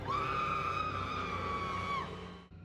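A woman in a Chucky horror film lets out a single sustained high scream that holds steady for about two seconds, then breaks off abruptly.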